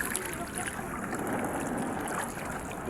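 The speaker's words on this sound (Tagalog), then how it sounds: "Nagsagwan lang kami kasi may sira ang makina natin." Water sloshing and splashing steadily against a small boat being paddled with oars because of a broken engine, in the open, with a constant wash of wind and waves and no voices.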